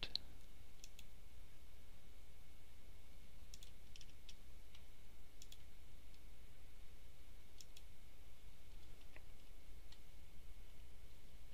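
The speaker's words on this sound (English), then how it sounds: "Click on the competency and change the status to approved." Computer mouse clicks in a software demo, sharp isolated taps spaced a few seconds apart over a quiet steady hum, with no one talking.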